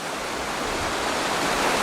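A mountain river flowing over rocks in Fuxing District, Taiwan, a loud, steady rushing wash that fills the whole clip with no voices.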